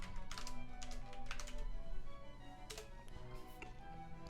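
Keys tapped on a computer keyboard in quick, irregular bursts of clicks, faint and close, with short pauses between runs.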